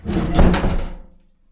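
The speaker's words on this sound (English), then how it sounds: "Shut the door again." A door swings shut with a single solid thunk, close and fairly loud, followed by a short rattling decay as the sound dies away.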